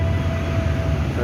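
Cermai passenger train running through Brebes station in Central Java, a steady loud low rumble with a sustained whine, continuous throughout and close by.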